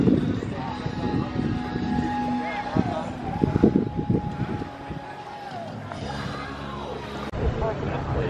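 Several jet skis run on open water at a race event, including a Sea-Doo-engined SXR 800 and an SXR 900 Ace. Engines drone and whine over steady wind noise, with nearby splashing and clatter.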